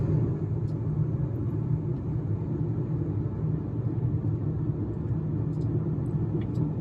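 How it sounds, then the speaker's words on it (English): Steady low road rumble and tire drone inside a moving 2006 Chevy Equinox, a constant moderately loud hum with no talking. "The road noise isn't absolutely terrible"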